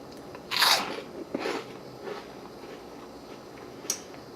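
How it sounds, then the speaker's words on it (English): Crunching bites into chips, one loud close crunch followed by a few softer chewing crackles that fade away, with no talk during them. "We must have complete silence for this crunch."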